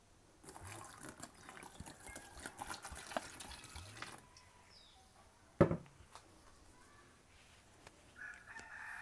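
Water poured from a small container onto seedling starter pods in a home organic garden: soft, intermittent trickling and dripping, with a faint rooster crowing in the background.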